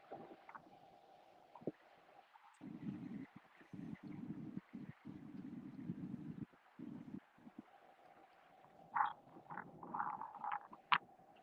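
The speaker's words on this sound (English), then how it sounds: "Yeah, the wind kicked back up." Wind gusting outdoors on a cold, snowy riverside while fishing, low buffeting rumbles and rustling that come and go in uneven bursts, with a few sharper knocks near the end.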